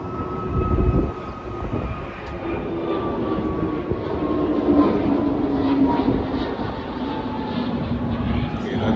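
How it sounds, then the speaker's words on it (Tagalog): A steady, broad roar of an aircraft's engines heard from inside the airliner as it flies, constant and fairly loud, with a slowly gliding whine on top and no talking. "lumilipad na ang ating aeroplano"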